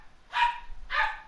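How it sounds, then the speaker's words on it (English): A dog in The Outer Worlds video game barks twice, two loud separate barks about half a second apart over a quiet background. "that dog's gonna keep barking"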